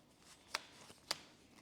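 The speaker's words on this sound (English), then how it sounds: "I'm gonna do this kind of obnoxious shuffle" A Commander deck of cards being shuffled, with two sharp riffle snaps about half a second apart and soft handling noise between, quiet and close.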